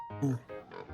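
A single pig gives a short series of nasal grunting oinks, close and clear, lasting about a second.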